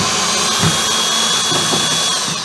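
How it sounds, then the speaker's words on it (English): Power screwdriver whirring steadily for a couple of seconds while working on a Girard water heater, a loud continuous motor whine that stays close and even throughout. "I got to put the right end on our screwdriver."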